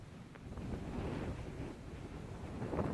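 Steady wind buffets a head-mounted camera microphone on a night flight at the dust bowl. It is a continuous, low, rumbling rush that swells slightly in places, with no voices.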